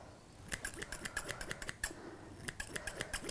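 Scissors snip rapidly through English Springer Spaniel fur, close and crisp, in quick bursts of cuts with a short pause in the middle.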